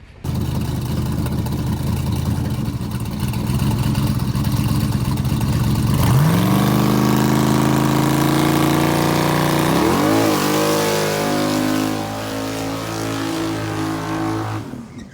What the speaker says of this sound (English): He just doesn't know how to do a mediocre burnout.